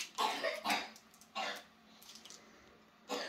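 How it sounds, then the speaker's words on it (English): A child coughs sharply in the background, a pair of quick bursts, then another a second later and one more near the end, with quiet pauses between. "I hear the child coughing in the background."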